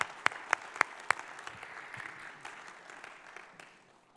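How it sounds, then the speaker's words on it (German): A few loud, sharp claps ring out nearby, then a church audience joins in a softer spread of applause that thins and tapers away. "lasst uns mal einen Applaus geben"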